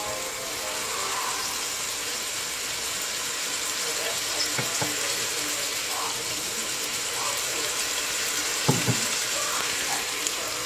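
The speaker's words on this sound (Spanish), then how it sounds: "cuando la cebolla esté más o menos así tronándose" Onion and mixed vegetables frying in hot oil for pickled chiles, giving a steady broadband sizzle with soft crackles and a couple of louder pops near the end, close by and with no talk.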